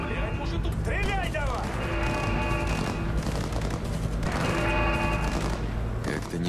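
Bursts of gunfire ring out in Cyberpunk 2077 combat, overlapping shots and rapid volleys mixed with game voices and music, loud and near throughout.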